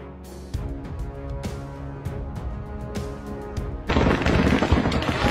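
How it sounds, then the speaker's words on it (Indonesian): On the Pakistan–Afghanistan border, scattered sharp gunshots crack over a steady low drone, then a heavier, louder barrage of gunfire and artillery booms takes over toward the end. "Pakistan menyatakan telah membalas dengan tembakan senjata api dan artileri"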